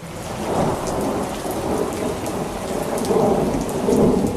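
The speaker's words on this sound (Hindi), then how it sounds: "बारिश भी आ गई, यानी मॉनसून आ गया।" Heavy monsoon rain pours down steadily while low thunder rumbles and rolls throughout, loud and constant, with no voices.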